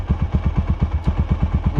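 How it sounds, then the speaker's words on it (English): Honda GB500 single-cylinder motorcycle engine thumping steadily while riding, a loud, close, even low pulse with no one talking. "Bike's running nicely though."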